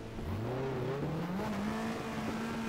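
Race car engine revving in the BTCC 1997 touring car video game, pitch climbing steadily through a gear as it accelerates, loud and close, running continuously with no talk.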